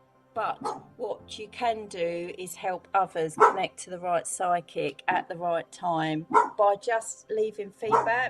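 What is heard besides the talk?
dog barking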